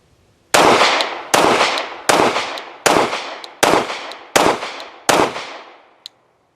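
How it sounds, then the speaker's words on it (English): A Glock Model 47 pistol fires seven sharp shots, spaced evenly about three-quarters of a second apart, each loud crack followed by a short decaying echo, with a faint click after the last. "it's a Glock pistol, but it shoots really nice"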